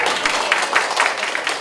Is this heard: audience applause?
yes